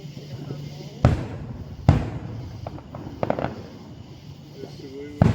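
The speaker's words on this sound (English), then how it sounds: "The salute was the way you saw the bang way before the" Fourth of July fireworks display in downtown Woodstock, Georgia: several sharp booming bursts spaced about a second apart, with smaller crackling pops between, heard from a distance over crowd murmur and talk.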